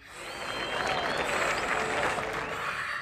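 A crowd applauds and cheers, a dense wash of clapping that swells and stays steady, with faint voices mixed in.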